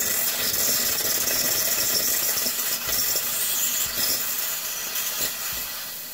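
A steady, loud hiss of water and steam forced through the group head of a De'Longhi Stilosa espresso machine, running continuously and tapering slightly near the end.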